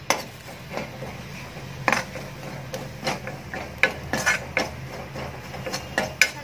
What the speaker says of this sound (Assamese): এয়া মই সকলোবোৰ একেলগে মিলাই লৈছো আৰু এতিয়া মই দি দিম আৰু ভালদৰে লৰাই দিম